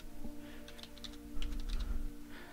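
Keys tapping on a computer keyboard while a password is entered, a short quick burst of light clicks over a steady electrical hum.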